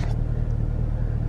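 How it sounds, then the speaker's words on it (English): Close car engine rumble in a parking lot as a vehicle backs out nearby, a steady low idle drone running throughout with no voices. "We had someone backing out and they're really close to my car."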